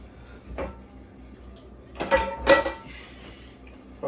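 A lid lands on a pot of ackee on a stove with two quick metallic clanks, after a faint earlier knock against a quiet kitchen background.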